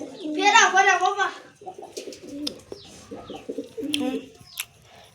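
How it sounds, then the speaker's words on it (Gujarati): Pigeons settle after landing and give soft cooing calls with a few chirps, close by, while a person talks over them for much of the time. "જો કબૂતર ઉતરી ગયા હે અને આપણે પકડ્યું છે"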